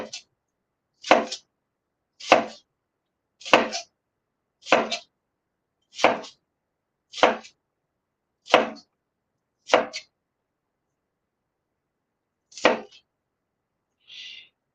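Onions are chopped with a knife in a home kitchen: about nine crisp, evenly spaced strokes land roughly a second apart, then a pause and one more cut, with a faint scrape at the end.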